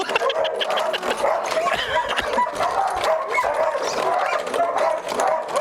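Puppies on a farm, including Chinese Malinois, yip, whimper and bark in quick overlapping bursts close by, with people talking faintly in the background.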